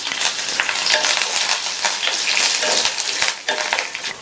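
Mustard seeds, urad dal, curry leaves, dried red chillies and asafoetida fry in a little hot oil in a kadai for tempering, giving a steady, close, bright sizzle with popping and crackling and no talk.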